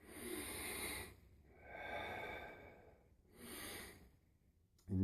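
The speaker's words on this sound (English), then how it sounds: "instead of sitting on the couch and eating, you know, potato chips and soda, I'm here breathing." Slow, deep breaths during qigong practice, heard as three long airy exhalations and inhalations, close and fairly soft, alone in a quiet room.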